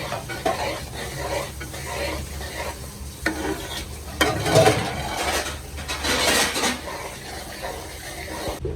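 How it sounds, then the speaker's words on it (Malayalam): Cooked jackfruit mixture with a spoon of ghee stirred in a pan, a close sizzle under repeated scraping strokes of a spoon against the metal, swelling louder in the middle stirs. "ഒരു സ്പൂൺ നെയ്യ് ഒഴിച്ചു കൊടുത്തു നന്നായിട്ട് ഇളക്കി യോജിപ്പിക്കാം"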